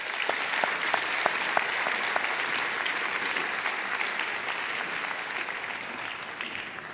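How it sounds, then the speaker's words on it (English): Steady applause from an awards-night audience for the nominees at a journalism awards ceremony, a thick continuous clapping with a few sharp individual claps standing out, fading slightly toward the end. "So let's give a round of applause to all the nominees."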